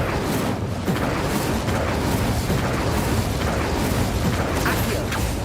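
An Incendio fire spell roars throughout a Hogwarts Legacy battle, a continuous dense whooshing rumble with repeated bursts and pops layered over it, loud and unbroken.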